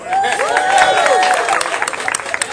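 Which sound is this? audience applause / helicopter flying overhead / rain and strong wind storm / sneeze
audience applause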